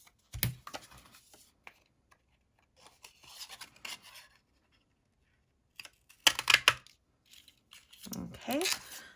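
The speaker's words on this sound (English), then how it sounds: "Use my snips to snip off a little bit of that there." Crafting snips cut small pieces of paper for a handmade ice cream card. Three separate bursts of crisp, close, rasping snips are spread through otherwise quiet moments.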